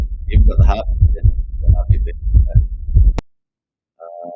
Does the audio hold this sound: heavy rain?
no